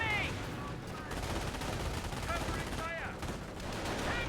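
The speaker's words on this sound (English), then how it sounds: "Taking fire from enemy infantry." Dense, continuous small-arms fire from enemy infantry during a Company of Heroes 1 battle, with rapid overlapping bursts. Faint chirping tones break through the clatter at times, and no one speaks.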